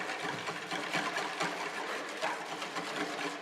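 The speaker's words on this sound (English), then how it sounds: "Whisk that in." Egg yolks being whisked into challah dough ingredients make a steady, quiet, rapid rhythmic clicking and scraping in a bowl, with no talk over it.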